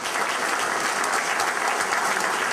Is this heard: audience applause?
yes